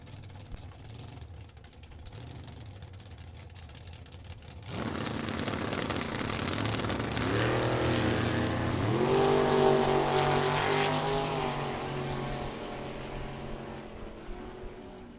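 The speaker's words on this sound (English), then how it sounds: "What a drag race right here." A Chevrolet Nova and a Chevrolet Camaro drag racing at a bracket nationals event: engines roar in from a distance and build to a sustained, loud drone, with a rising whine partway through before fading.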